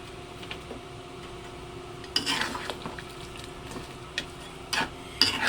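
A spoon stirring chicken curry with curry powder in a pot, with soft scraping strokes and a few sharper clinks of utensil against metal over a low simmering background.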